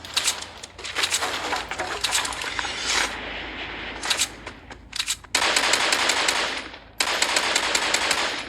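SMG gunfire in Fortnite, rapid bursts of automatic shots in several clusters, loud and close, with dense sustained volleys toward the end and no speech.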